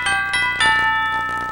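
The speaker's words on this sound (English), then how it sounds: "Oh, well, that's my doorbell." A home doorbell plays a short multi-note chime tune, bright sustained tones ringing out clearly and alone, signalling someone at the back door.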